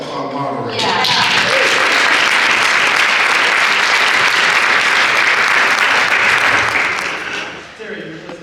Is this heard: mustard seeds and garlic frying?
no